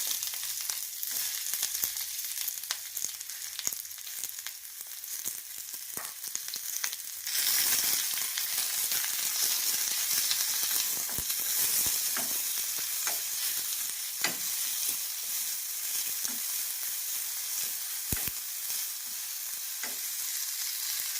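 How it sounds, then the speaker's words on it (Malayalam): Mustard seeds and sliced onion fry in hot coconut oil, making a steady close crackle that swells into a louder, brighter sizzle partway through, with scattered sharp pops and stirring scrapes. "ചൂടായ എണ്ണയിലേക്ക് കടുക് ചേർക്കുന്നു വെച്ചിരിക്കുന്ന ഒരു സബോള ചേർത്ത് കൊടുക്കുന്നു"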